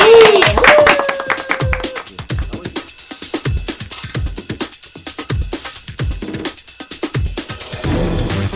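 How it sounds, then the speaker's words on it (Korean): A studio audience applauds with a burst of clapping that thins into scattered, rhythmic claps, near and fairly loud, after a brief tonal sound at the start. "박수"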